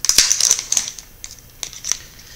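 Disposable Blu e-cigarette packaging is peeled open close up, giving a loud crinkling, crackling burst at first and then a few scattered crisp crackles.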